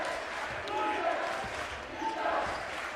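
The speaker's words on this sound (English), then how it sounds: "The defense chant from the hometown crowd" A home crowd in a high school gym chants for defense during a varsity boys basketball game, a rhythmic two-beat call repeating under the echoing hall noise, with a ball bouncing now and then.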